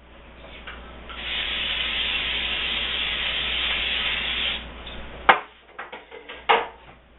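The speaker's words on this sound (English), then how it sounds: "we're going to take some cooking spray, spray down our Springform Pan" Cooking spray hisses steadily for about three seconds as a springform pan is greased, followed by a few clattering knocks of the can and pan close by.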